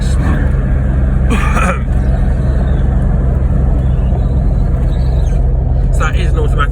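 Loud, steady engine rumble comes from a Volvo 945 Turbo with an automatic gearbox being driven hard, heard from inside the car. A voice briefly breaks in over the drone.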